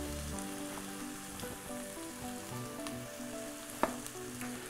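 Cooking oil sizzles and crackles steadily in a frying pan while being heated for Ramadan kebab, with a busy close frying hiss throughout and one sharper pop near the end.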